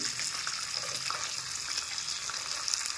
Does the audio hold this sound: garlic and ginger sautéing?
yes